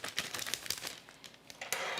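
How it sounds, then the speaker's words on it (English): A sheet of parchment paper is folded in half and then into quarters for baking lemon squares, giving close, crisp crinkles and rustling in short bursts with no speech. "you fold your piece of parchment paper in half, and then that in quarters"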